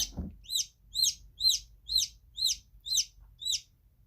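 A newly hatched chick in an incubator peeps in high, clear chirps, about eight evenly spaced calls at roughly two per second, close and alone over a quiet hum.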